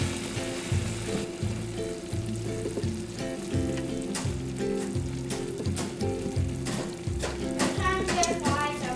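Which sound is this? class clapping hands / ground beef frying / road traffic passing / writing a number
ground beef frying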